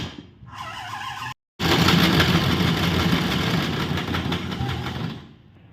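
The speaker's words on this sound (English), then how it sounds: "it is shredded into further bits using two 12-volt motors and our self-designed PLA made" Plastic shredder driven by two 12-volt motors grinds through waste plastic with a dense, rough mechanical roar, close and loud, with a brief cutout before it runs steadily and then tapers off.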